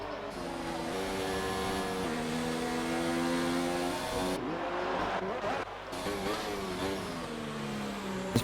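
F2 race car engines in a sim racing game at the Brazil round, a loud sustained high-pitched whine rising and dropping through gear changes, with a brief shift in tone partway through.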